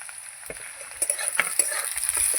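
Potatoes and onion frying in a pan, with a soft sizzle broken by a few scraping stirs that grow busier and louder toward the end.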